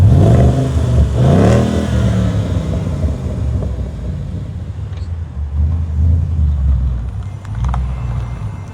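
A 2014 Ford Mustang GT with a 5.0L V8 revving with its Valvetronic cutout mufflers open: a loud opening rev and a second surge, then a deep burbling idle rumble and another rise near the end.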